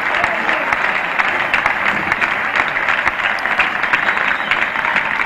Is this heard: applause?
yes